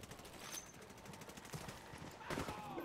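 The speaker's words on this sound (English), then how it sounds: "I'm taking shots from everywhere" Distant gunfire in Ghost Recon Wildlands, scattered muffled shots and bursts rising and falling over steady background noise, quiet and far-off throughout.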